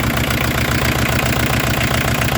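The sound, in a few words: Peugeot 205 TD diesel engine running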